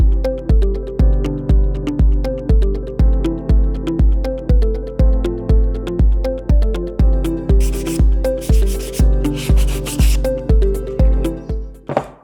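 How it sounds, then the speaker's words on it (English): Rough edges and dried glue are hand sanded off a wooden planter box in about twenty-five even, rhythmic strokes, each a loud close scrape, ending with a light knock. "just go ahead and sand, any rough edges you see, any glue that may have dried on the outside"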